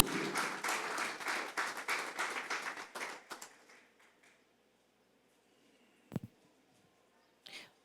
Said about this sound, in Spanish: me honran con sus aplausos